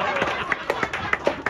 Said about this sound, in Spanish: Aplausos, solo aplausos para Benenito Pam.